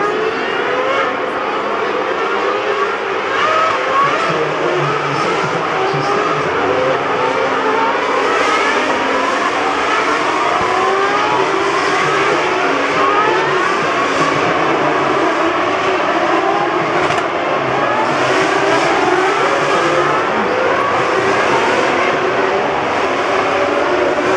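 Formula 1 race cars at the Monaco Grand Prix in 2013, circulating behind the safety car, give a steady, continuous engine drone that stays fairly loud and even throughout with no talk.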